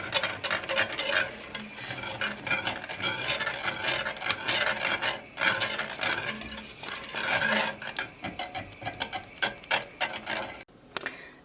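Spoon or whisk stirring a flour and three-cup milk dessert mixture in a pot, a steady continuous scraping and swishing that runs loud and close with brief pauses, no voices.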